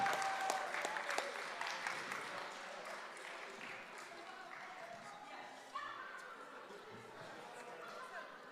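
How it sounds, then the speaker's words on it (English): At a spelling bee, an audience offers a round of applause for the teams in one flight, fairly quiet and distant clapping that thins out, with people chattering in the room. "Big round of applause for our teams in Flight 3, sponsored by the Stone family."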